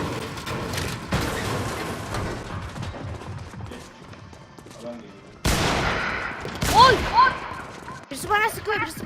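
Fortnite video game gunfire crackles in bursts among other game effects, with excited people talking over much of the action.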